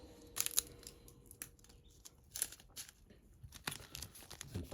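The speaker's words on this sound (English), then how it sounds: "we're going to cut open this bag first." Plastic bag being cut open and handled, a few short sharp rustling bursts and crinkles up close amid quiet pauses.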